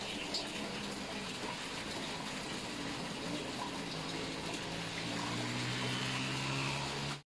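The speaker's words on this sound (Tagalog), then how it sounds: "Yan na naman ang ulan." Steady, dense rushing hiss of falling rain, constant and fairly close, with no voices, ending abruptly.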